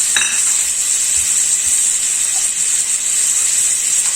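Boiled chopped potato, mung beans and peanuts frying in a pan on full gas, giving a steady close hiss and sizzle throughout with faint scraping at the start.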